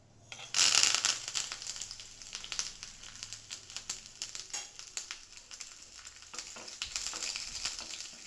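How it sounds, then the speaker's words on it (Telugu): Curry leaves and garlic hit a teaspoon of hot oil for tempering, bursting into a loud crackling sizzle that settles into steady close spattering and popping, with no talking. "కరివేపాకు మరియు వెల్లుల్లిపాయ మొత్తం వేసేస్తున్నాను ఒకేసారి."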